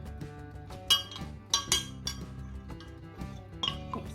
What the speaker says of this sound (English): Then, we use a spoon to mix it.